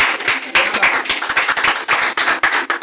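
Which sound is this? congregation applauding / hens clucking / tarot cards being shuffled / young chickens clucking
congregation applauding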